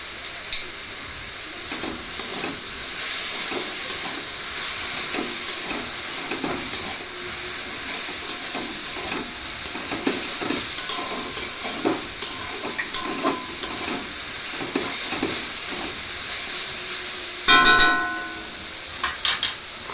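Vegetable chow mein frying in a pan, stirred with steady scraping strokes over a continuous close sizzle, with a sharper burst of clatter near the end and no talking.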